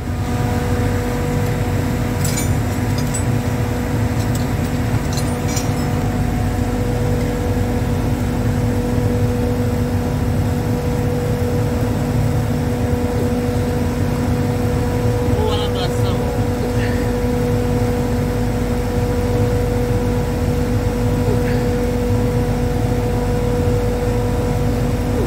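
A vacuum pump drones steadily throughout while a Hanbell screw compressor is charged with refrigerant gas, a constant loud mechanical hum with tonal whine, and a person talks over it.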